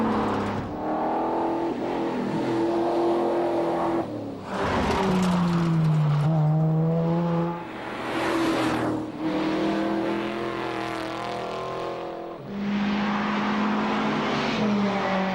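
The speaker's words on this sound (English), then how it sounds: "The uphill part is where it's nice to hear a V8 or a turbocharger singing under the bonnet." V8 and turbocharged rally cars race uphill on a Targa Tasmania stage in 1998, engines revving hard and climbing in pitch through gear changes, loud and continuous with several bursts as cars pass.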